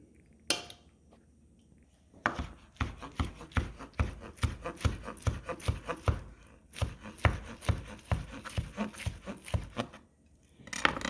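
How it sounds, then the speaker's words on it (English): Knife chopping slow-braised birria beef on a cutting board for tacos, a quick steady run of close, crisp thuds after a couple of isolated strikes, with a brief pause midway. "we'll fish it out and chop it up and make some tacos out of it"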